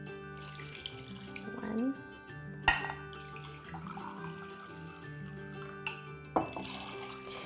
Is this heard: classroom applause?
no